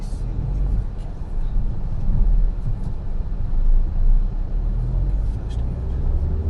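Engine of a Honda Jazz 1.2 i-VTEC running with a loud, steady low rumble heard up close, swelling slightly in the middle of the clip.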